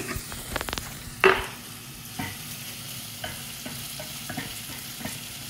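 Three or four cloves dropped into a sizzling cumin and onion mixture in a pan, a sharp crackle at the start settling into a steady fry with a few faint stirring knocks, close by and with no talk.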